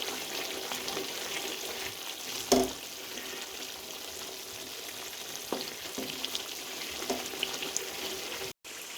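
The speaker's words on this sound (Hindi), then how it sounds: "तकरीबन 20 मिनट हमें इसकी अच्छे से भुनाई करनी है।" Masala roasting (bhunai) in a pot for mutton makhni biryani gives a steady, close sizzle and frying hiss for the whole stretch, with a few brief stirring knocks and scrapes and no talk.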